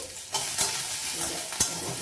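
Onion sizzles in a kadai over cumin seeds, heard close as a steady frying hiss with a few quick spatula scrapes and stirs, and no one talking.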